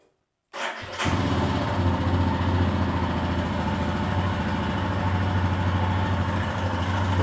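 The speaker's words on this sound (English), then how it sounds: "let's fire her up, that's what she sounds like" A Royal Enfield Himalayan 411 motorcycle engine cranks, catches and settles into a steady close idle, a loud even thumping beat that carries on unbroken.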